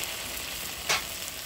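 Fried potatoes are dropped into hot spiced oil with ground coriander paste, giving a sudden brief sizzle over a steady background frying hiss.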